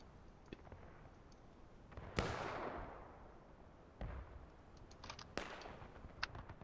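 Civil War reenactment artillery cannon fire on an open field: three heavy booms spaced a couple of seconds apart, each with a rolling, reverberant tail that fades over a second or two, over a faint outdoor background.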